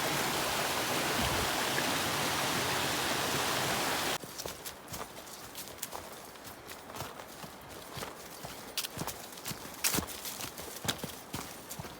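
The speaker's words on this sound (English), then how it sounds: "the entire climb is along this stream here" A mountain stream beside the Appalachian Trail rushes loudly as a steady close wash for the first few seconds, then gives way to quieter trail noise with scattered footsteps.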